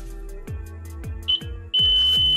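Electronic buzzer on a simple 3 volt NTC thermistor alarm circuit, first a few clicks and brief chirps, then a loud, continuous, piercing tone switching on close by.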